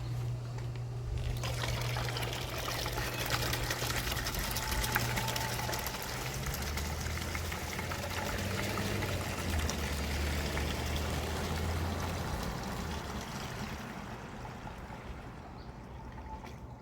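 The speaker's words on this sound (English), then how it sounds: "We're gonna mix the house wash mix." Liquid pours steadily into a container while mixing a soft-wash house wash solution, a continuous close splashing trickle with a low pump-like hum underneath, tapering off near the end.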